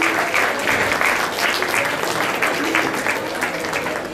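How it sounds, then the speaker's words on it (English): An audience at a youth leadership event in Panaji, Goa applauds a panel, a loud, continuous wash of many clapping hands that holds steady from start to finish. "I request the audience to please applaud them."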